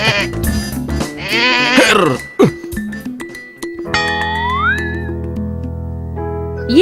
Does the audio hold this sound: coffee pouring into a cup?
no